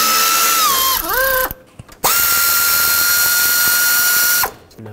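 A 10 mm ratchet tool loosens a bracket bolt on the intake of a 1997-2003 Ford F-150 with the 5.4L 2-valve engine, giving loud, close whirring bursts that dip in pitch, with a brief pause between runs.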